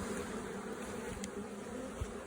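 A dense, steady drone of many bees buzzing together at an apiary, fairly faint and continuous, with no voices over it.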